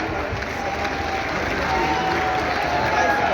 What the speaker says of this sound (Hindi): एक बार जोरदार तालियां पुनः चाहूंगी आप सभी की